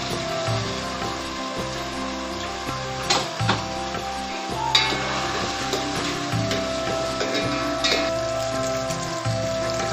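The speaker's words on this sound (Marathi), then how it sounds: "आला लसणाची पेस्ट. चांगली अशी परतून घेऊ आपण." Ginger-garlic paste sautéing in a pan for a Malvani-style paneer biryani, a steady low sizzle and frying hiss running throughout with occasional light clicks and taps of a spoon against the pan.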